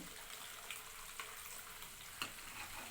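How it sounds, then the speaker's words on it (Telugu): Butter boiling down into ghee in a pan, a steady soft sizzle and bubbling with a few light clicks of stirring, close and alone without talk. "అలా మరుగుతూ ఉండాలి కలిపేసుకుంటూ ఉండాలి"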